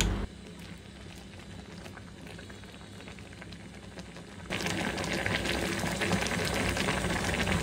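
Garlic paste, chili powder and turmeric sizzle in a pan on the stove, a steady soft frying hiss that jumps louder partway through and then continues evenly.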